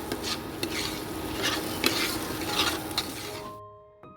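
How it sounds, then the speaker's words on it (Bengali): Continuous sizzling and frying of mashed pointed gourd, a utensil scraping and stirring through a pan, scrapes recurring every half second or so, then the sizzle suddenly drops away near the end. "এবার এটাকে আমি ভালো করে ভেজে নেব"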